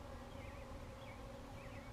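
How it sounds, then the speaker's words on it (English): Agitated honeybees swarm around a hive during an inspection, with guard bees flying everywhere, making a dense, continuous buzzing drone with a few nearer bees whining past. "These guard bees are just all over."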